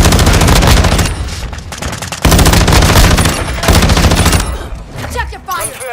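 Rapid machine gun fire in a military shooter video game, loud sustained bursts of rattling shots broken by brief pauses, ending in scattered echoing blasts.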